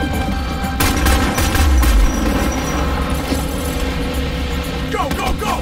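Gunfire in the video game Homefront: The Revolution, loud sustained bursts of shots and booms in a dense, continuous firefight, with no clear talk over it.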